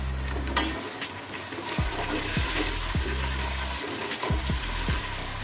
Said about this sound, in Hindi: अब मैं इसमें ऐड कर रही हूँ अदरक लहसुन का पेस्ट, 1 खाने का चम्मच फुल भरकर, और थोड़ा सा इसको सौटे करेंगे